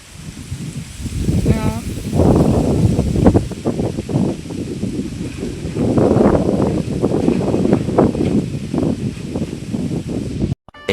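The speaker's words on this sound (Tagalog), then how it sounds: "Ganihan ning kadlaw nagsugod ang hangin-hangin" Strong wind blows outdoors along a walk to a school, buffeting the microphone in loud rushing gusts that rise and fall for about ten seconds, with some voice mixed in.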